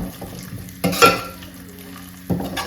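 Grated coconut frying in a generous amount of ghee in a pan, giving a soft steady sizzle with stirring scrapes, a louder clatter of stirring in the middle and more stirring near the end; no one speaks.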